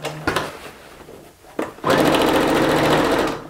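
A small domestic sewing machine stitches in a steady, fast whirring run that starts after a couple of short bursts and holds loud and close to the end.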